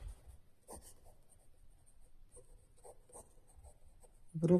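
Pen scratches on paper as a solution is written out, coming as faint, irregular short strokes with brief pauses, ending in a louder thump.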